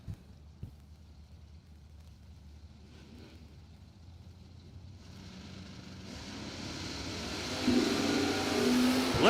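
An Olds Cutlass drag race car in the tower lane approaches from a distance, its engine roar building steadily from faint to loud as it nears.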